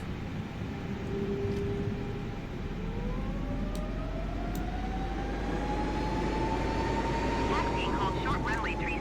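Jet engines of an A320neo in Microsoft Flight Simulator hum steadily while taxiing, a rising tonal whine sweeping upward as power builds, with a constant low rumble and a voice talking over it.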